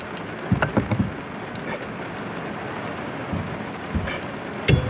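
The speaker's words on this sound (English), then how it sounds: "I don't know if you can hear that rain, but it is pouring." Dense, steady rain pours down with a constant hiss, and scattered louder knocks and taps land on a nearby surface of a van.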